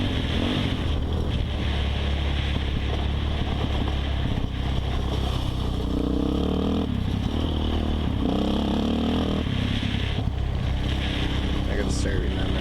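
Suzuki LTZ 400 quad bike engine droning steadily while riding off-road, with heavy wind buffeting over it and a rising rev as the front lifts into a brief wheelie; someone talks over parts of it.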